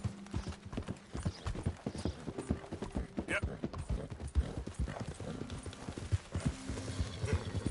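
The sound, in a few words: horse hooves clip-clop in video game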